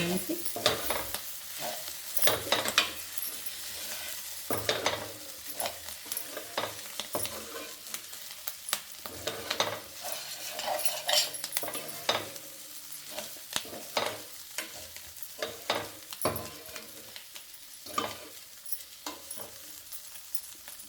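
Sliced okra frying in a pan and being stirred, sharp repeated scrapes and clatters of the spatula over a steady oily sizzle, close and irregular, with no speech.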